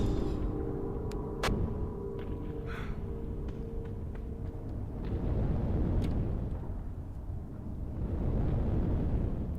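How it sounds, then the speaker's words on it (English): Fire crackling and roaring in the horror game Doorways: Old Prototype, a steady low rumbling blaze heard up close and fairly loud, with a few sharp tonal game effects over it and no talk. "There's a fire."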